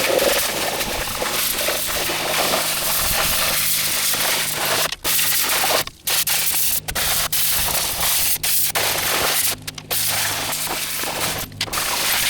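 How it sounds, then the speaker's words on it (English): A steady, loud hiss of a pressure washer spraying runs almost continuously while washing an engine block, with a few brief cutoffs where the trigger is released. "probably come back and spray it again and then hit it with the pressure washer"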